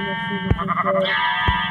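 Minecraft sheep bleat in a short, nasal, wavering cry, followed by a second bleat over a steady in-game background tone, with a couple of sharp thumps in between.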